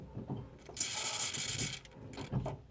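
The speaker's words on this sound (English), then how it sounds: "I'll pump the pedal a bit more." Brake pedal being pumped on a Ford Capri while bleeding fluid after a caliper replacement, giving a few soft mechanical clicks and thumps with a brief hissing squeak in the middle, faint and close.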